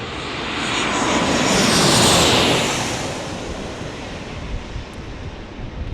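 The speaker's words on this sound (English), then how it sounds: "looks like we've got some more 737 action." A Boeing 737 passes at San Diego airport, its jet engine roar swelling to a loud broad rush near the middle before slowly fading into a steady distant rumble, with no voices.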